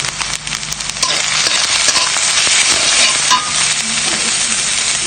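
Onion, garlic and ground cumin, chili and turmeric sizzle in hot mustard oil, a loud, dense, steady frying hiss with stirring scrapes throughout and no talking.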